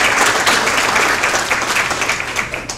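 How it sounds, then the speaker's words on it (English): Loud audience applause for board members at a chamber kick-off breakfast, a dense burst of many hands clapping that thins slightly toward the end. "Please give them a round of applause"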